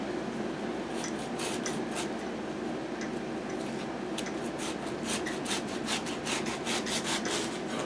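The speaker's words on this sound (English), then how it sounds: "But I'm going to cut this into slices." A knife slices a giant, partly hollow radish into pieces, giving repeated close rasping strokes in a steady rhythm with no talking.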